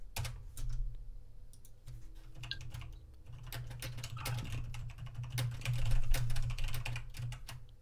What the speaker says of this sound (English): You are typing quite a bit.